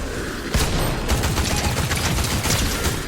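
Video game gunfire as a player shoots, a dense, loud stream of rapid close shots and impacts running continuously through the moment, with no talk over it.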